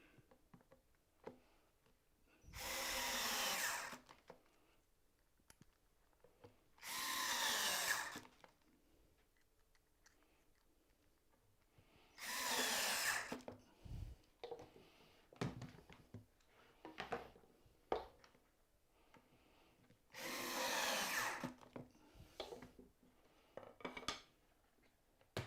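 A power drill drives three or four screws into a wooden keepsake box in a woodworking shop, four separate loud whirring bursts of a few seconds each, split by quieter clicks and handling noises.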